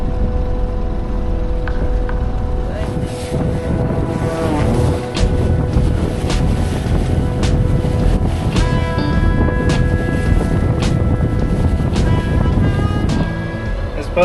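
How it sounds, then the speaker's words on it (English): A sailboat crossing rough open ocean between Fiji and New Zealand, with continuous loud rushing water and hull wash, buffeting wind on the microphone, and occasional knocks and creaks throughout. "This boat really moves some water."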